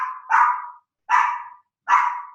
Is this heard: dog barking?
yes